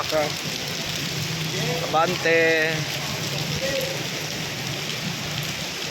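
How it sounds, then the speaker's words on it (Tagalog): Steady, dense rain pours down in a constant hiss while a person talks briefly over it. "Oh, grabe ang ulan."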